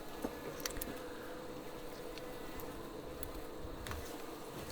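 A steady, dense buzzing of many honey bees close by at a long Langstroth horizontal hive, continuous throughout, with occasional faint clicks and taps.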